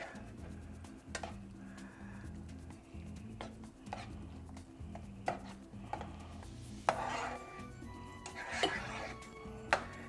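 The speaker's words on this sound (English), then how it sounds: "Now we give this a nice hearty stir." A chicken tamale casserole mixture being stirred in a pot, with irregular close scrapes and knocks of a utensil against the pot, some louder clinks spaced through the stirring.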